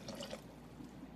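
Water poured into a blender jar while cooking deviled shrimp, a steady soft splashing and trickling pour throughout a short moment, close and moderately quiet.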